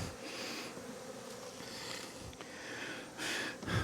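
Two bees trapped in a beetle vacuum buzz continuously and close, the drone swelling and fading, with a louder burst of buzzing near the end.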